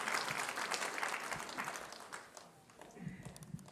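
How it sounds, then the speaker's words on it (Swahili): Mourners applaud at a memorial life celebration for an elder, scattered hand claps in a loose crowd that thin out partway through, with faint voices underneath. "Asante, wapigeni makofi"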